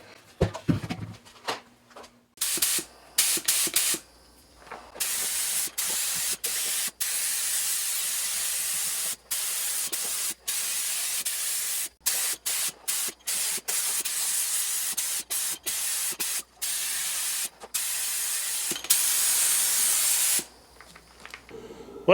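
A spray can repeatedly hissing paint onto the oil tank of a 1977 Porsche 911 Turbo, in a long series of steady bursts separated by short pauses, loud and close.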